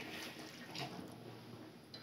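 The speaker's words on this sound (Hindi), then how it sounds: "थोड़ा सा इसमें पानी डाल देंगे।" Water splashes and pours briefly into a pan of cauliflower sabzi with salt and turmeric, a short liquid gush with no talking.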